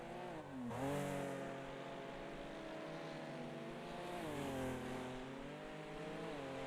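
Race cars in the video game Wreckfest, Trans-Am series at the Motor City track, rounding the final corner with a steady engine drone that rises and falls in pitch as they shift and brake, several cars close together.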